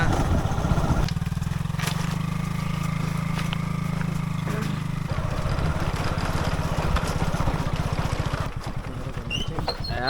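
A motorcycle engine drones steadily while riding near Tirupati, a continuous mid-pitched rumble with wind noise, shifting in tone partway through.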